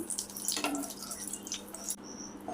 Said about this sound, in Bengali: শুকনো লঙ্কাটা আগে প্রথমে ভেজে নিচ্ছি